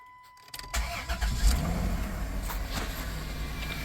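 A 1997 Dodge Grand Caravan SE, revived after sitting abandoned for over four years, cranks briefly and fires up, then settles into a steady idle up close.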